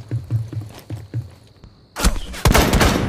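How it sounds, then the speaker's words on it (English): Gunfire in the video game Rainbow Six: a rapid run of loud, punchy shots gives way to dense, louder bursts of firing that fill the rest of the moment. "I should be able to shoot him."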